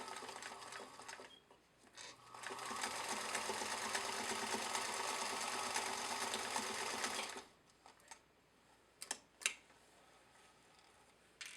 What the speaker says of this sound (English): I'm just usually working at the sewing table and stitch them up.